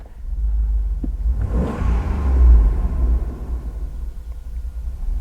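An older car with engine trouble gets a single quick rev: a low idle rumble swells into a short rising roar, then drops back to a rough, uneven idle, close by and with no talking.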